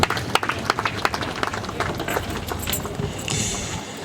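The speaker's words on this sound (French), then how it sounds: "Acclamons pour l'encourager, s'il vous plaît." Mourners at a funeral for a mother applaud to encourage a speaker, giving steady, moderately loud clapping with a loose rhythmic pulse and a few sharper claps.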